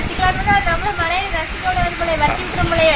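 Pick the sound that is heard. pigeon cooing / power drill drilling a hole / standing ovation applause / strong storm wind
strong storm wind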